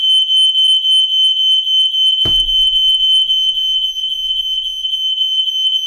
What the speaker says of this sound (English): As someone set the fire alarm off.